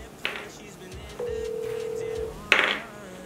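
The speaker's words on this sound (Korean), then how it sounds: "다른 친구한테 전화를 한번 더 해보도록 하겠습니다." A phone call being placed: a brief dialing tone burst, then a steady ringback tone held for about a second, followed by another sharp electronic burst, all fairly close and clear with no talking.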